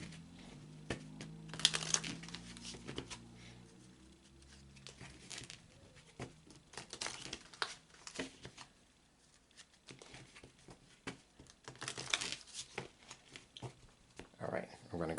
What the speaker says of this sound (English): I'm going to go ahead and shuffle again.